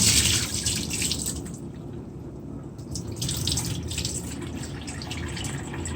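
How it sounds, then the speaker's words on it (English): Rinse water pours off rice in a basin during preparation of Jamaican ackee and rice, a continuous close splashing stream that dips briefly in the middle before running steadily again. "Pour that water off."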